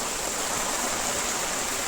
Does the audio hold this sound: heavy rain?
yes